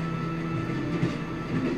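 A moving train in The Walking Dead video game gives a steady, dense rumble of wheels and carriage noise, with a constant low drone and a faint clatter running throughout and no voices.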